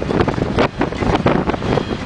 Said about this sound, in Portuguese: Ventania do Diabo.